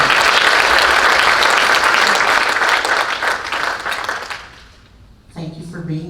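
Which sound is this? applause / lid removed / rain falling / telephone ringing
applause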